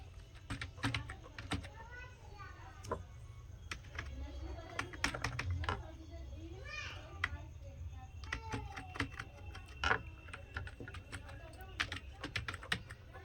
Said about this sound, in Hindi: तो टेक्स्ट पर आते हैं और मान लीजिए हमको स्वामी लिखना है।